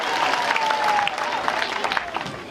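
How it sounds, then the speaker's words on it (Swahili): Applause for Joroge wa Githinji at a wedding gathering, a steady wash of many hands clapping throughout, fairly close and loud with faint crowd voices and a thin tone running through it. "Wapi makofi tena ya Joroge wa Githinji."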